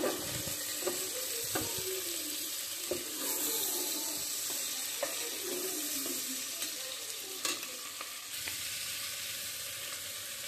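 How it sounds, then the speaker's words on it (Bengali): Pulao rice fries in a pan and is stirred, a soft steady sizzle broken by repeated scraping and clinking of the spoon against the pan, close and fairly quiet with no talking. "এখানে আমি চালটা ভেজে নিচ্ছি"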